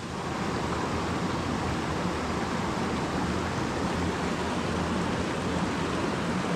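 Continuous broadband rushing of a stream's running water in Baxter State Park, steady and fairly loud, with no other sounds standing out.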